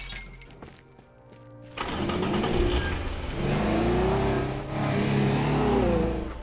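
A car driven in a video game accelerates loudly after a brief lull, its engine tone rising and falling in repeated surges with some crashing noise mixed in.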